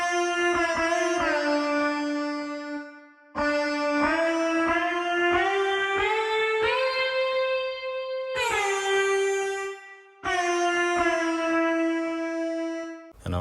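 A bright, sustained synth lead in a hip-hop beat plays a sliding melody in three phrases, each held line bending between notes and ending in short gaps, loud and up front with no talk.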